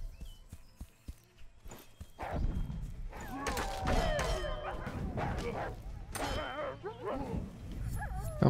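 A dog in the video game Achilles: Legends Untold barks and whimpers amid footsteps and clattering game sounds, moderately loud and repeated over several seconds.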